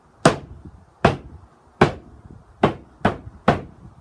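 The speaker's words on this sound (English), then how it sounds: "Here's what one sounds like that's not wrapped tightly. Sounds like this." Six hits on a loosely wrapped homemade wooden box drum, dry, slappy thwacks with little low-end body, spaced roughly every half to one second, close up.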